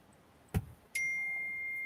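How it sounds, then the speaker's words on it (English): Phone notification sounds arrive right after airplane mode is switched off: a short broadband blip, then a sustained bright electronic tone that holds steady and fairly loud to the end, with no talking. "And here comes notifications."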